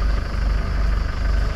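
Camper van named Freedom sits with its engine idling, a steady low rumble holding evenly close by with no voices over it.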